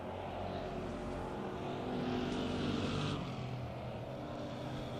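Eight-cylinder race cars at a Thunderstock short-track event roar in a dense, sustained engine drone as the pack races down the back straightaway, with one louder car swelling by near the middle and no talk.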